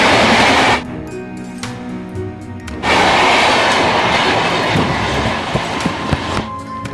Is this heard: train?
yes